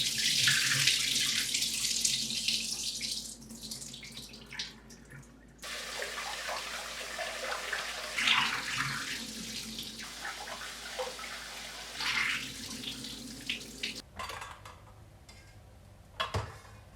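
A kitchen sink tap runs steadily while Japanese short grain rice is rinsed, with water splashing and sloshing in a bowl and a few shifts in the flow and brief pauses near the end.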